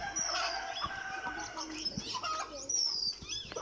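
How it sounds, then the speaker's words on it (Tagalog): Chickens cluck and squawk close by, with a busy chorus of birds and farmyard noise continuing throughout. "Tingnan may manok."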